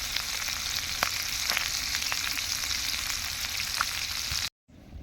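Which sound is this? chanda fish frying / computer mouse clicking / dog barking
chanda fish frying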